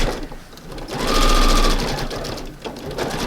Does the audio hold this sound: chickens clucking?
no